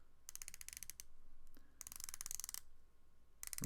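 The rotating bezel of a Zodiac Super Sea Wolf watch being turned, producing bursts of rapid fine clicks in three separate runs, close up and quiet.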